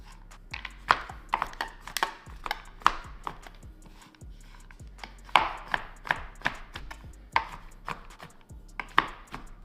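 Knife chopping a Ghirardelli white chocolate bar on a cutting board for blondies, a quick irregular run of sharp close taps and thuds with no talking.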